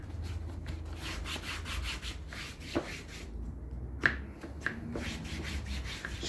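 Treatment is wiped by hand onto black plastic Land Rover trim, making a soft, close, rhythmic rubbing with a few light taps and clicks over a low background hum.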